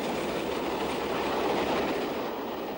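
Electric train on the overhead-powered main Scotland to London railway line behind houses in Northampton, passing as a loud, steady rumble and roar with faint clickety-clack of wheels throughout, no voices.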